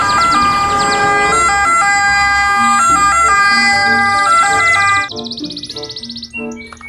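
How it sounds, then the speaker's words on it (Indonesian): A toy ambulance gives off a loud, close electronic siren that warbles steadily, then switches to a thinner, quicker chirping siren pattern before cutting out. "ini mobil ambulan."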